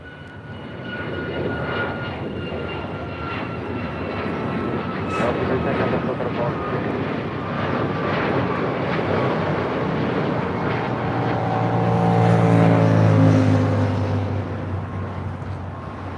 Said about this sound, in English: Alaska Airlines Flight 310 heading to Dulles. 737 MAX 9, just delivered in September of this year.